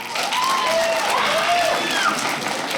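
Dog owners in a comedy club audience clap together, a continuous wash of applause from a crowd with some voices and a shout rising over it.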